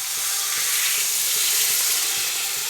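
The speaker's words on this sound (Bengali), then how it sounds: "এবার আমি জল দিয়ে দিচ্ছি" Water hits a hot pan of spiced curry with melon seeds and potatoes. It sets off a loud, steady sizzling hiss that holds evenly throughout, with faint bubbling underneath.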